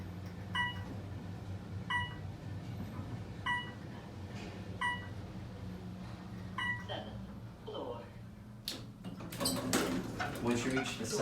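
An elevator's digital keypad gives a series of short, evenly spaced electronic beeps, about five in a row, over a low hum and murmuring background, followed by clatter and a louder burst near the end.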